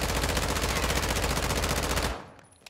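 Vel 46 submachine gun from Warzone 2 fires a sustained fully automatic burst on the in-game shooting range, a loud, rapid, even stream of shots that cuts off abruptly with a short fading tail.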